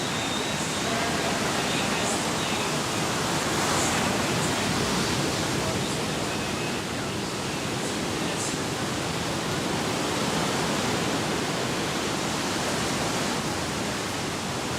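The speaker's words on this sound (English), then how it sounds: "Waves on the way here." Ocean surf at a pro surfing contest makes a dense, steady roar of breaking waves, loud and continuous throughout.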